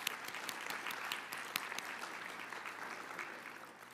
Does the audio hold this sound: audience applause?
yes